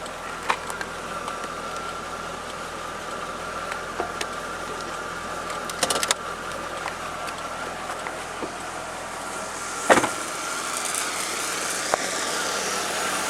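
A 2002 Chevrolet Corvette C5 convertible's 5.7 liter V8 idles steadily close by, a low constant rumble with a few brief clicks and a short louder blip near the end.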